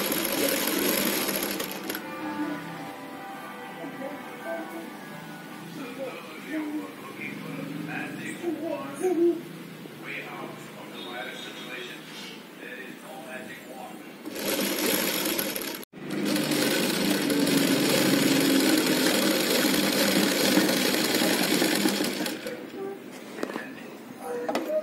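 A sewing machine stitches three fabric layers together at the waist of a child's umbrella frock. A voice talks over a quieter stretch before two loud, close machine runs, a short burst and then a longer steady one.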